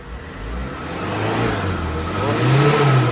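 A Tata 2.2 diesel car engine revs up during a workshop test, a close, gruff mid-pitched note that swells and builds louder toward the end, with no talking over it.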